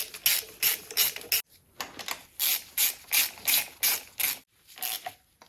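A 3/8-inch ratchet with an extension and 10mm socket works a fastener while servicing a Citroen Saxo VTR car, giving about eight close bursts of rapid clicking separated by short pauses.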